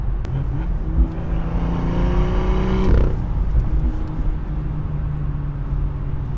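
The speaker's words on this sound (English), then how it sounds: "Those over rev braps are just amazing." A BMW M2 engine revs hard while driving, its rising and falling whine loud and close with a rumbling exhaust. A sharp brap-like burst of over-rev noise lands around the middle, over a steady drone of road noise.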